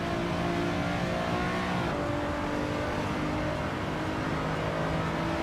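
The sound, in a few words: race car engine sound in Assetto Corsa video game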